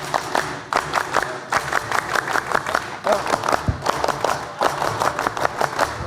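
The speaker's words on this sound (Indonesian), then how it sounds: "2 kali tepuk pramuka." A group in a studio performs the Indonesian scout clap (tepuk pramuka) twice, loud patterned bursts of sharp claps in a rhythmic sequence with short pauses between rounds.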